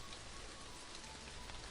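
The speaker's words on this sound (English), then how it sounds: "It's raining." Steady rain from a visual novel game falls as a continuous soft hiss of drops on a surface, even and unbroken throughout with no voices.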